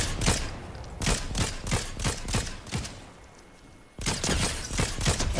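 Rapid gunfire in a shooter video game, loud bursts of repeated shots close up, pausing for about a second before resuming, with no talk over it.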